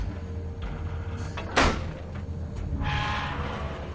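A rusty door being tried in the video game The Wolf Among Us, a brief loud creaking scrape and rattle in the middle followed by a softer grinding rumble, heard over a steady low ambient background.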